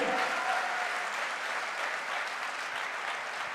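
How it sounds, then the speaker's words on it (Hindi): Steady, dense applause from an audience at a direct-selling promotion ceremony, sustained and even for the whole stretch, with no break in the clapping. "अरे तालियां जोरदार होनी चाहिए"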